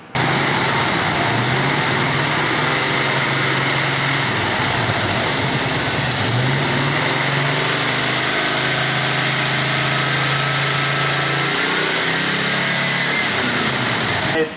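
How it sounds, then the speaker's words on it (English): A 1978 Camaro Z28 engine idles to warm up, holding a steady, loud, close rumble with a low throb for the whole stretch and no voices over it. "What I'm doing is making sure the engine is warm up, because at least the block to be hot"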